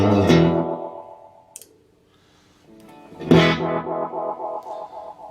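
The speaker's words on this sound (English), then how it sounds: "if you want to make it really funky, almost like a spring reverb" Guitar played through a JMK Hamlet delay pedal set for a funky, spring-reverb-like effect: two loud, distorted phrases, each trailing off in wobbling echoes, with a quiet gap between them.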